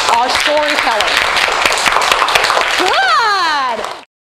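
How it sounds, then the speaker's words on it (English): Children applaud a storyteller at a school presentation, loud close clapping mixed with excited young voices and squeals, building and then cutting off abruptly. "Boys and girls, big round of applause for our storyteller."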